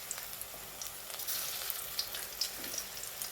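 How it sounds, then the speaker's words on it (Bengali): Cabbage pakoras in an egg batter frying in hot oil, giving a soft, continuous crackling sizzle with small pops and faint stirring, heard close up without any talking. "তো এইভাবেই আমি ভেজে নেব।"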